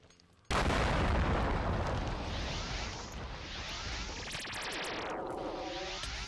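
Rockets fired from a weapon in a Minecraft mod, an abrupt loud launch followed by a sustained roaring, crackling rush that carries on for several seconds with faint high beeps near the end.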